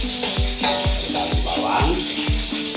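Garlic sizzles steadily in a hot pan for asado beef, a constant frying hiss broken by a regular rhythmic scraping and knocking, close and fairly loud.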